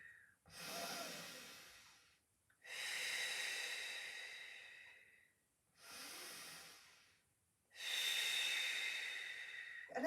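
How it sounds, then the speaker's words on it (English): Slow, deep breaths during a Pilates session, drawn in through the nose and released through the mouth, four long airy breaths in sequence, close and clear with silent pauses between them. "So I'm breathing in through my nose and out through my mouth."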